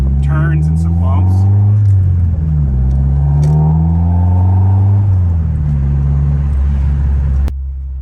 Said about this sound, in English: Sorry, my exhaust is rattling.